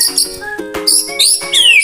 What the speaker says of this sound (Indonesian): Pertama, murai batu.